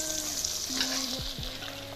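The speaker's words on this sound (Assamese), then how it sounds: "ইপিনে বনাই আছে মাছৰ ফ্ৰাই" Fish sizzling as it fries in a pan, a steady close hiss and crackle with a couple of brief lower thumps, no voices.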